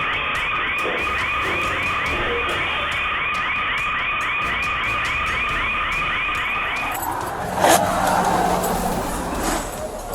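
A shrill electronic store alarm wails in a fast repeating pulse during a robbery, then cuts off, leaving muffled rustling and a brief thump.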